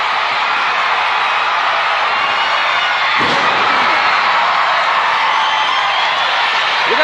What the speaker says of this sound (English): And this crowd is loving this one.